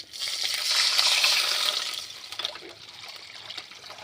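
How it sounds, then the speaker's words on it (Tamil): Water splashes and pours steadily into a pan while cooking macaroni, a broad hissing rush that gradually thins to a lighter trickle. "தண்ணி ஊற்றிக்கலாம்"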